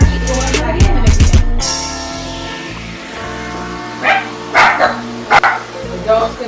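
Dogs bark in a quick burst of several loud yaps at the start, then give a few more scattered barks later while people talk in a home kitchen.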